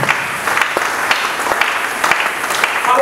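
A church congregation at a covenant renewal service breaks into sustained applause, a dense, steady wash of clapping filling the room with scattered sharper claps throughout.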